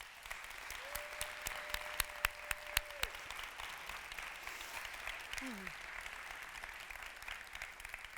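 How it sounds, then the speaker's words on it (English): Applause from an audience honoring five students at a summit event, a steady wash of many clapping hands that runs throughout at moderate level, with a few sharper individual claps standing out near the start. "please join me in giving them a round of applause"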